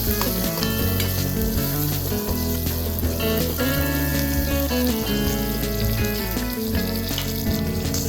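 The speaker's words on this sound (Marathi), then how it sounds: "कमी फ्लेमवरती तुम्ही चांगल्या मिरच्या भाजून घ्या" Green chillies, garlic and peanuts roast in a pan over a low flame for Kolhapuri mirchi kharda, giving a steady, loud sizzle with scraping stirs and a faint tonal hum running throughout.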